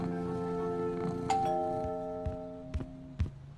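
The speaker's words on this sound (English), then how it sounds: "Until the doorbell rang." A doorbell chimes with ringing tones that ring out and fade, followed by a few soft knocks or taps near the end, all alone without speech.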